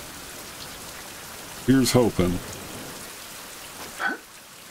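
Steady rain pattering throughout in the video game Survival: Fountain of Youth, a constant even hiss with someone briefly speaking over it.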